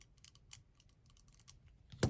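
A Microtech Ultratech knife's loose button rattles and clicks lightly in the hand, a quick series of small, close ticks ending in a sharper knock.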